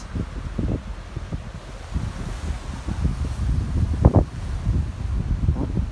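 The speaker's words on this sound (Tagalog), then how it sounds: "Klaro ni mong kuan hangin ba kusog kayo." Strong cold wind buffets the microphone in low rumbling gusts, steady and loud throughout, with a brief sharper gust near the middle, in Sanary, France.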